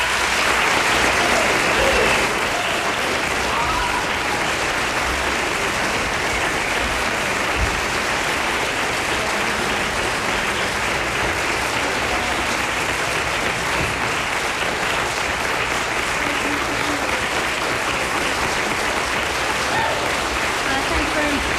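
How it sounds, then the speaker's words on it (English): A crowd at a concert gives loud, sustained applause, a steady wall of clapping and cheering that never lets up across the whole stretch. "Thunderous applause."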